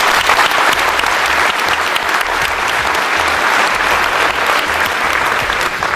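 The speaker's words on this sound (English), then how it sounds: "Give him a round of applause." A studio audience bursts into loud, dense applause for sports columnist Rudy Martzke at a roast, a continuous wash of clapping that holds steady for several seconds with no letup.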